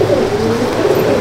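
Pigeons cooing in a top-class pigeon loft, a low steady throaty warble repeating close by with a soft wavering rhythm and no talk.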